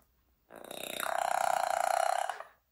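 A parrot mimics a human burp: one long, drawn-out, throaty belch that swells after a short silent lead-in, holds with a buzzing, pulsing tone, then stops abruptly, loud and close with no talk.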